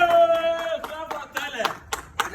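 On a film set after a best comedy actor award is presented, a few people clap in scattered, uneven bursts, sharp and close, mixed with brief voices and background sound.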